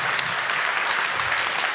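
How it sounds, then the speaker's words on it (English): Audience applause at a talk, steady clapping from a crowd with no break, filling the room at an even loudness for the whole stretch. "Big round of applause, please, for Ned Crowley."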